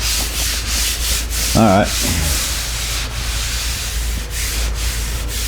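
Sandpaper on a sanding block rubs steadily back and forth over an MGA car body, a close, loud, continuous scraping with a short spoken phrase partway through.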